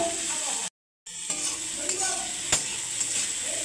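Shredded cabbage frying in a pan with dried red chilli, five-spice seeds and chopped green chilli, giving a steady broadband sizzle with a brief silent gap and a few stirring clinks and scrapes.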